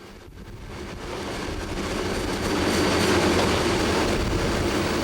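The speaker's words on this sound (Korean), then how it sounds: "충남 서천의 화력발전소로 가는 기차에는 무연탄이 실려 있다" Freight train hauling anthracite coal to a thermal power plant in Seocheon, South Chungcheong, rumbling past with a steady broadband roar that builds louder as it nears, with faint wheel and rail noise and no talking.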